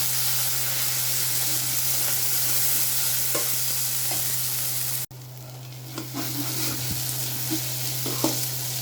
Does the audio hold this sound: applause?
no